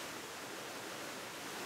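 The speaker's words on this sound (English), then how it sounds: "Just above us is a waterfall." A waterfall in a North Carolina park amid eastern hemlocks gives a steady, even rush of falling water, constant and moderately loud with no voices.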